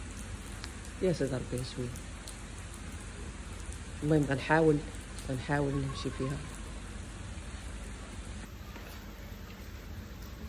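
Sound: rain falling

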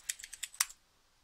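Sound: typing a password on a computer keyboard

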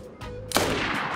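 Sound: gunshots fired at a body armor vest in the video game DayZ

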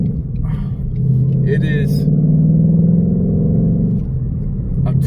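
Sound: car engine accelerating from low RPM

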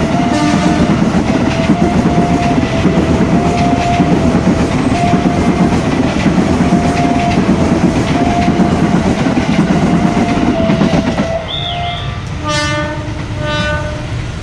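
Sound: train passing railway crossing

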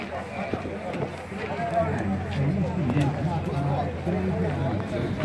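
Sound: horse hooves clopping

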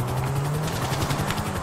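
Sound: helicopter in video game GTA 5

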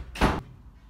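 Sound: door opening or closing

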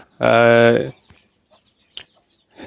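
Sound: domestic chickens and chicks

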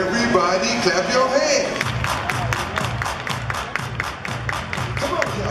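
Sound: audience clapping hands

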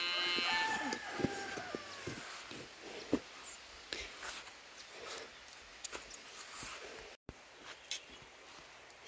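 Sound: cow mooing

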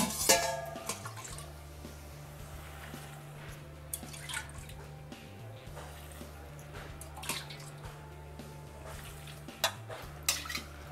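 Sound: pouring water over banana stem for soup

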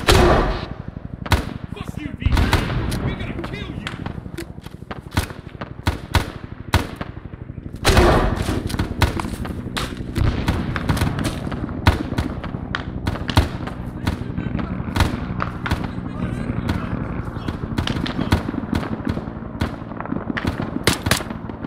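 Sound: grenade launcher firing and exploding in a video game

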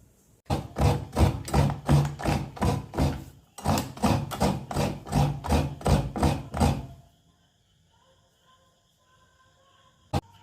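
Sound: grating fresh coconut on a traditional vili blade

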